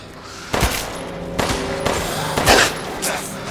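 Video game gunfire comes in several sharp, loud bursts spaced about a second apart, each ringing briefly over a low background hum.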